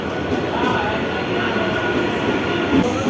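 A local train pulls into Kalwa station with a steady, loud rumble of wheels on rails and a faint squeal, a continuous wash of rail noise close by with no clear talk.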